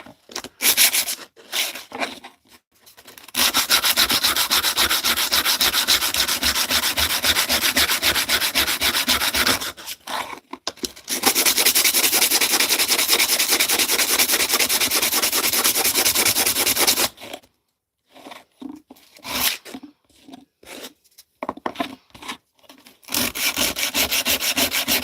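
Wood is sanded by hand with 80 grit sandpaper: a few short scratchy strokes, then two long stretches of steady, even rubbing, a pause of choppy strokes, and rubbing again at the end.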